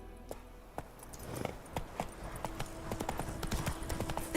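Horse hooves clip-clopping at a steady trotting rhythm while riding in The Witcher 3, with occasional faint tack jingles and background game ambience throughout.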